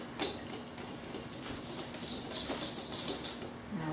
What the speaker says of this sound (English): We're just going to whisk it together